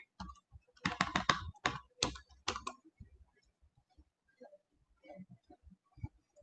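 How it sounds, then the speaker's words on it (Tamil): Someone types on a wired USB mechanical keyboard in quick, sharp clacking bursts, loud and dense at first, then sparser, scattered keystrokes in a quiet room. "அந்த சவுண்ட் இந்த மாதிரி பட்டு பட்டுன்னு தட்டிட்டு இருக்கிறது வந்து மெக்கானிக்கல் கீபோர்ட்"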